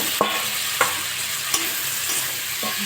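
Potatoes are stirred and fried in a thick spiced gravy, a close steady sizzle punctuated by a few sharp spatula scrapes against the pan, with no talking.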